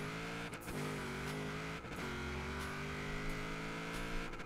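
Ford RS1800 drag build of over 1000 hp in a Forza Horizon 4 race at about half throttle, with a loud, sustained engine drone that climbs in pitch and drops briefly at each of two gear shifts.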